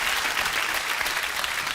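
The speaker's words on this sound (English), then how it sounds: "Give Jimmy a round of applause down here in London" A London studio audience applauds during a BBC quiz show, giving steady, dense clapping throughout that is loud and close.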